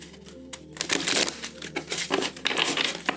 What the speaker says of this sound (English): So, I'm going to do one more shuffle here.